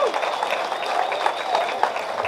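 An outdoor festival crowd claps in a steady, sustained burst of applause, dense and moderately loud throughout, with some voices mixed in.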